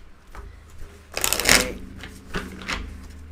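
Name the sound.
shuffling cards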